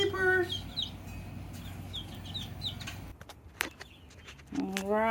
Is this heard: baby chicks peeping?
yes